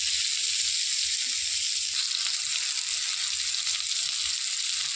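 Dried red chillies frying in oil for a jackfruit curry give a steady, close hiss with faint crackles that stays level throughout, with no one speaking.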